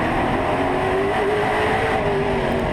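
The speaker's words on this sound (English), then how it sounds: "We're on board with the 12th car of Keegan Walmer." Onboard a topless modified race car at a Roseville, California oval, the engine roars loud and constant with a wavering pitch as it holds speed, dense and close throughout.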